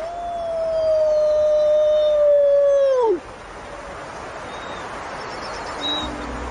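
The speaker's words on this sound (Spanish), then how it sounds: "sus aullidos no obtienen respuesta" Lone wolf howling from a pack that has lost its mate, a long sustained wavering call that holds steady then slides down and breaks off, followed by quiet open wilderness air with faint distant noise.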